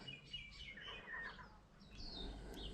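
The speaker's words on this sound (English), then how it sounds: "Shut up, seagull." A seagull calls several times in the distance during outdoor car repair work, with faint, high, falling cries over a steady low background rumble.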